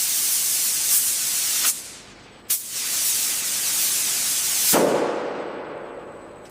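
Spray nozzles blasting a truck cab on a Mercedes-Benz factory line, giving loud, steady hissing spray in long bursts broken by two abrupt cutoffs and a sharp restart.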